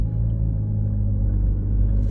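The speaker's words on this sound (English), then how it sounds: "Let the turbo spool." A 2023 Audi A6 S line turbocharged engine revs in manual mode, a deep steady rumble heard from inside the car, low and continuous for a couple of seconds.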